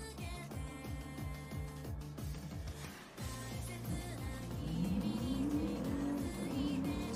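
A Mercedes-Benz 300 SEL AMG race car runs in Gran Turismo Sport at the Nürburgring Grand Prix circuit, its engine droning steadily with rhythmic shifts and rising revs, loud and close.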